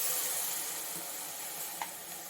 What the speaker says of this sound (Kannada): ಸ್ವಲ್ಪ 2 ನಿಮಿಷ ಫ್ರೈ ಮಾಡೋಣ.